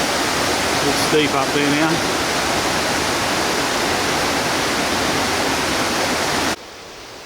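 Steady, loud roar of a waterfall at Ba Be lake in Vietnam, heard close from a wet path, with brief speech over it before the rushing water cuts off near the end.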